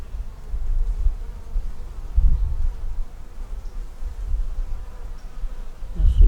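Honey bees buzz steadily around an opened nuc hive holding a white-marked queen, a dense close drone with swells as bees fly near, continuous throughout.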